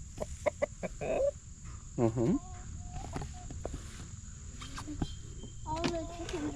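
Backyard flock of hens clucking and squawking around a newly introduced rooster, several close short calls and a rising squawk, with insects buzzing steadily and a brief murmured voice.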